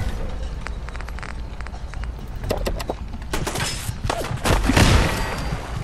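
Gunfire in the video game Fallout 4, with sharp, rapid shots and thuds building toward a louder cluster near the end, no speech over it.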